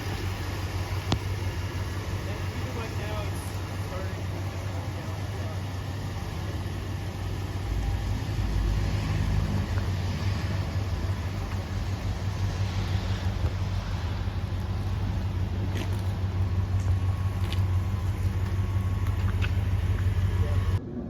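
An eighth-generation Ford F-150 pickup truck engine idles steadily with a constant low hum, captured with some wind noise on the microphone and no clear change in rhythm throughout.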